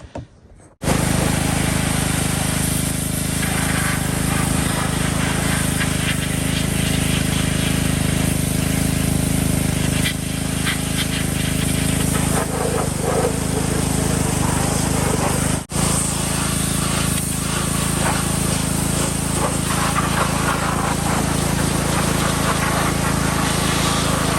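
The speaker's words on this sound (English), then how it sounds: "we're gonna pressure wash everything in here just lightly" A pressure washer runs nonstop as it lightly sprays down the engine bay of a 1999 Dodge Ram Cummins, a loud, steady close-up hiss and roar that keeps going with almost no breaks.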